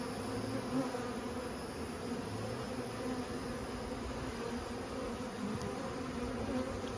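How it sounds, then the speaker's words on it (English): A steady, dense buzzing of many feral honey bees close by in a giant cactus, continuous and unbroken throughout with a low droning hum. "And they're just gonna fill with bees too."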